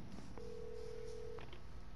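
A telephone in the Alan Wake Remastered video game gives a single steady electronic tone about a second long, over a constant background hum.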